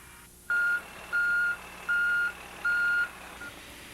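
Reversing warning alarm on a road grader working on a gravel road: four evenly spaced, steady electronic beeps, clear and prominent over low background rumble, with no talking.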